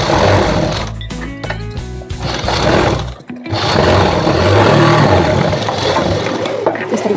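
A sewing machine stitches along the edge of a suit neckline, running loud and close in two long bursts with a short pause between them.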